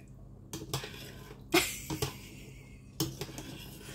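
Spoon scraping and clinking against a bowl while a salad of pickled tomatoes, sausage and sour cream is stirred in a home kitchen, a few sharp knocks spread over quiet background hum, no talk.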